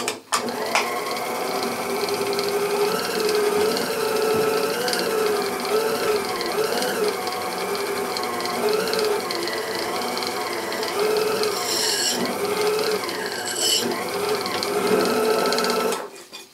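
Sensitive drill press spinning at its highest speed, about 30,000 RPM, drilling brass with a tiny number 71 drill, giving a steady, fairly loud high-pitched whine with small shifts in pitch as the bit feeds in.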